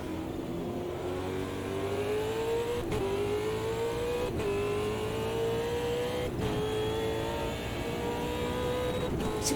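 A Super V8 race car engine in Automobilista 2 at Bathurst, a steady loud roar that rises in pitch through each gear and drops sharply at every shift, several times over, with no one speaking.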